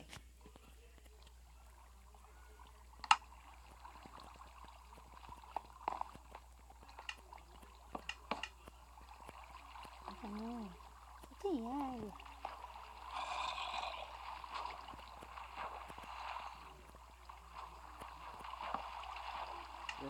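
Water runs and gurgles in a survival video game, a soft continuous trickle with scattered small splashes and clicks, fairly faint, with occasional voice-like sounds in the background.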